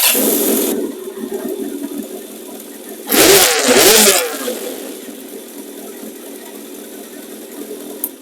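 A 1984 Kawasaki GPz750 motorcycle engine idles unevenly, then rises in a loud throttle burst of about a second before settling back to a steady, rough idle nearby.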